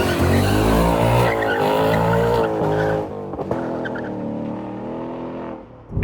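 A Ford Mustang Dark Horse V8 drifts with loud, sustained tire squeal over a roaring engine that shifts pitch as it revs, close and continuous before easing off toward the end.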